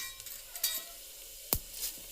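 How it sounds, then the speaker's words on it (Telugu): Chana dal and cumin dropped into heated oil for tempering, a quiet sizzle broken by a couple of crisp clicks and one sharp scrape in the pan. "ఈ ఆయిల్ హీట్ అయింది, తాలింపు వేసేసుకుందామండి"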